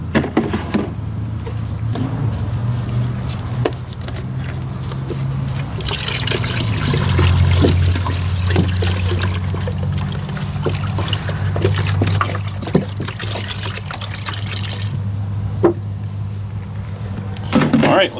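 A jug of windshield washer fluid is poured into the front tire of a 110TLB tractor, giving a loud, continuous close gurgling trickle that swells and fades with the pour.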